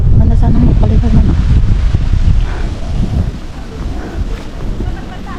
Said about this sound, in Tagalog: Wow, mahangin siya.